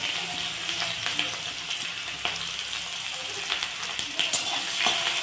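Onions sizzle and crackle as they fry in hot oil in a pan for chicken kasha, a steady, close hiss with scattered pops and spits.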